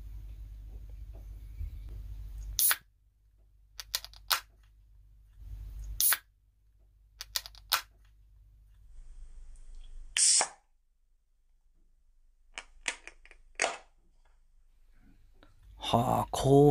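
A can of Ichiban Shibori beer cracked open, a crisp hiss-pop burst standing out among a few sharp clicks and taps in an otherwise quiet, close-miked setting.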